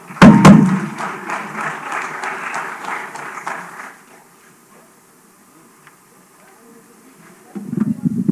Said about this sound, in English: can we give this group a better round of applause?